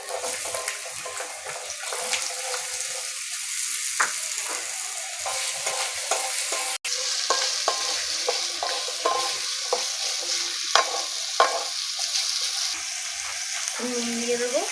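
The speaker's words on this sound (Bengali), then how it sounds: "আলুগুলো ভেজে নেব।" Potatoes frying in oil in a pan give a steady, close sizzle throughout, broken by repeated scraping and stirring knocks of a utensil against the pan.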